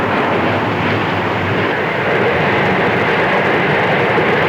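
A train on the line toward Port Pirie in Australia, giving a loud, continuous broadband rumble and rushing roar that holds steady throughout, with no talking.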